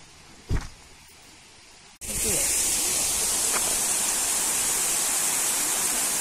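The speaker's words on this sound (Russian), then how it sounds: "Еще один водопад в нашу коллекцию." Trufanets waterfall beside a road in the Carpathians near Rakhiv, a loud, steady broadband rush of falling water that starts suddenly after a brief quieter moment with a short thump.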